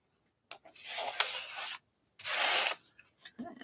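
Paint is scraped across an artwork in a few short, dry rasping strokes, two of them longer and louder, separated by brief near-silent pauses.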